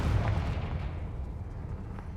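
A Confringo blasting spell in Hogwarts Legacy video game lands as one heavy, booming explosion, loud and close at the start, then fades into a rumbling tail.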